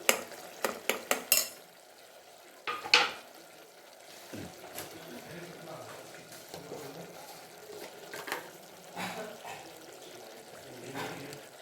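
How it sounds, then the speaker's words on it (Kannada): Chopped tomato added to a hot pan and frying during home cooking, with sharp clattering stirs and scrapes at the start, then a low steady sizzle broken by occasional utensil knocks against the pan. "ಈಗ ಟೊಮೆಟೊ ಹಾಕ್ಕೊಳ್ತಿದ್ದೀನಿ"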